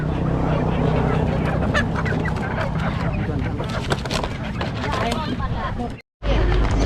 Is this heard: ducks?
yes